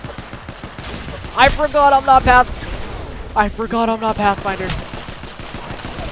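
Bursts of automatic weapon fire in Apex Legends crackle in two rapid volleys of evenly spaced shots, loud and close, with a player talking between and over them.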